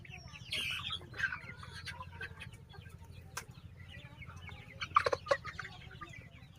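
Sonali super hybrid chickens on a farm of about 900 birds, scattered clucks and short squawks near and far over a low steady background hum, with occasional wing flaps.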